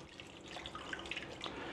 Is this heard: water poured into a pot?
yes